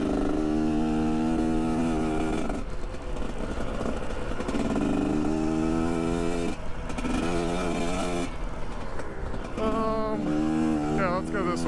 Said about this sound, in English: this is actually seems like a pretty dang good bike, especially if you're starting out